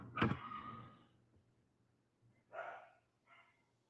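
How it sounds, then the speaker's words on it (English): Dogs bark once sharply nearby, then give a couple of fainter muffled barks, with a low steady hum underneath. "Damn dogs."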